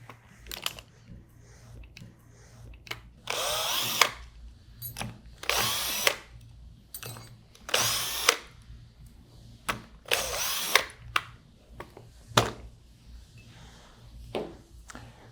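Close, loud bursts of a power tool running on and off while removing four bolts from a 200 series pump seal, with short quiet gaps and light handling clicks between runs.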